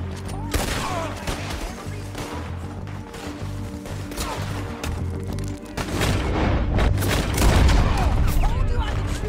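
Gunfire in the Western video game Red Dead Redemption 2, with repeated loud shots and booming blasts over a dense, continuous backdrop of action noise and music, building louder toward the end while voices speak at times.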